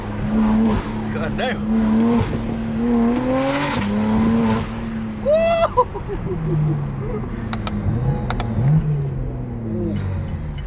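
A BMW G80 M3 in M mode revs and accelerates loudly close by, its engine note rising and falling with crackles and sharp pops, while excited people talk and exclaim over it.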